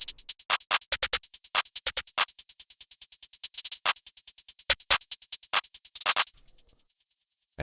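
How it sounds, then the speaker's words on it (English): A snare sample in an FL Studio beat cracks at intervals among fast ticking hi-hats and rolls, its hits standing out as fuller, heavier bursts before the pattern cuts off near the end. "Then I just added this snare, which sounds like this."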